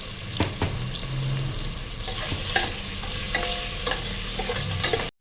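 Onions frying with salt in a pan, with a continuous close sizzle broken by frequent scraping and clinking stir strokes, ending in a brief cutoff.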